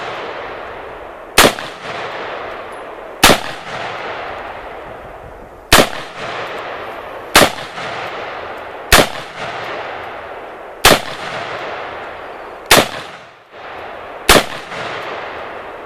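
A Miltac Industries AR pistol fires about eight loud, sharp shots at a range target, spaced a second or two apart, each ringing into a long echoing tail, with no talking.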